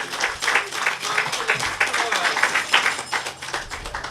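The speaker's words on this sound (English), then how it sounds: "Let us give them a round of applause." Audience applause for young national anthem performers at a housing key presentation event, a dense patter of many hands clapping, moderately loud and continuous, with faint murmur beneath.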